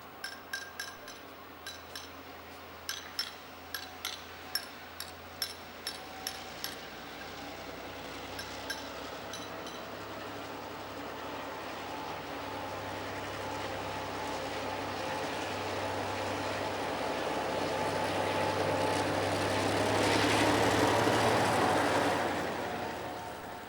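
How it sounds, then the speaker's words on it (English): Diesel locomotives DC 4323 and DBR 1295 haul a northbound excursion train, opening with a run of sharp metallic clinks before a steady engine rumble builds, swells loud as the train passes close, then eases off. "DC 4323 and DBR 1295 are heading north with the Railway Enthusiast Society Rally Rail Spectator"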